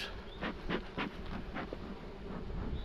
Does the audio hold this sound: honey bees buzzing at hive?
yes